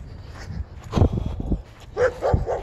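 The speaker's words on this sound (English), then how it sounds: "Puppy dogs are saying hi." Puppies bark and yip in short irregular bursts, fairly close, with some whimpering between the barks and no talking.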